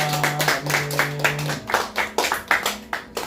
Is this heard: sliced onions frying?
no